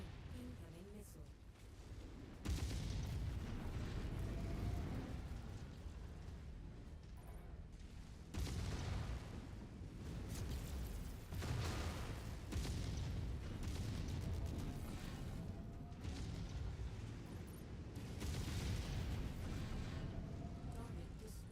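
Missile explosions and heavy booms in the mech combat game MechWarrior 5, loud rumbling blasts recurring throughout with radio-style voices talking over the battle noise.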